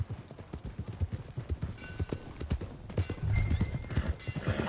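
In a video game, horse hooves clip-clop near stables in a steady, close rhythm, joined by a clear neigh toward the end, with no talking.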